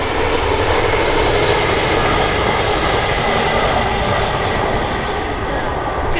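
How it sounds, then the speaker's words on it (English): A train passing close by on a walk near Rutland Water in England, a loud, steady rumbling roar that fills the whole stretch with no talking. "There's a train coming."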